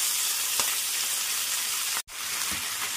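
Spinach leaves sizzle and fry with browned onions in a pan for a dhaba-style spinach chicken curry, a steady close hiss with one brief break partway through.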